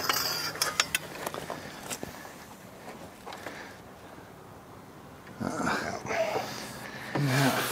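Wrench ratcheting on the crank bolt of a 1965 Ford F100 engine long left buried outdoors, several quick metallic clicks and clunks early on, then quieter stretches and shuffling, with some low talk.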